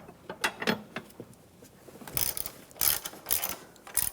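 A ratchet tightens bolts on the valve cover bracket of a 2008–2013 BMW 328i xDrive, making quick close clicking runs. Short handling knocks sit between the bursts of clicks.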